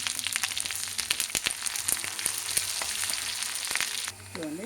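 Tempering spices sizzle and crackle in hot oil in a home kitchen, a steady frying hiss dotted with sharp pops, fairly close and moderately quiet, with no talking.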